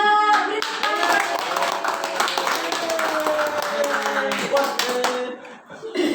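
Students in a classroom clapping steadily for several seconds, fairly close, with voices and some laughter mixed in before it trails off.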